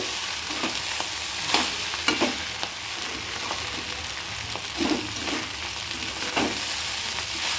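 Cooked rice frying in a pan, a steady close sizzle broken by repeated scraping stirs of a spatula at uneven intervals, with no voices.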